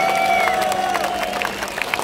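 A festival crowd at Brutal Assault 2018 applauds and cheers for a metal band. The roar is loud and continuous, with shrill whistles rising through the noise.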